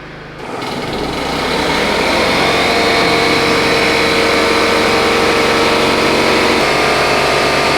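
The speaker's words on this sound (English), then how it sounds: "We're going to plug in a compressor now, so it's going to get louder" An air compressor starts up and then runs steadily in a barn workshop where house sections are being built, giving a loud, continuous mechanical drone that carries on at full volume without a break.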